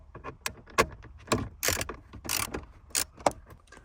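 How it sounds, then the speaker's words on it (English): A 10mm socket ratchet on a long extension works bolts loose inside the dash of a 2005-2013 Toyota Tacoma. Short, irregular bursts of close, crisp clicking come with brief pauses, and no one speaks. "you need a 10mm socket with a long extension"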